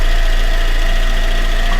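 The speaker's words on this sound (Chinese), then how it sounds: "此台车的发动机不但烧机油，而且发动机还会传出咔咔咔咔的异响声" A car engine that burns oil idles loudly close by with a steady, droning hum and a faint rhythmic ticking knock running through it, even and unbroken until it cuts off at the end.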